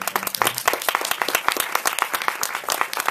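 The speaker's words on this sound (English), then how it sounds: "please join me in giving a warm round of applause" An audience claps after a post-screening Q&A for a WWII drama at the Film Society of Lincoln Center: dense, continuous applause, loud and close, from a packed room of many hands.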